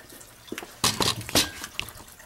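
Water splashing and dripping as a 130 gallon axolotl tank fills over rocks and hardscape, a few brief close splashes over a low background.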